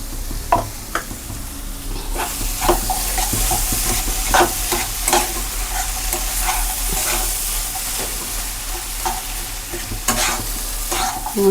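Kashmiri red chili powder and spices frying in a pan for a matar paneer curry, giving a continuous close sizzle with frequent scraping and tapping of a spatula stirring throughout.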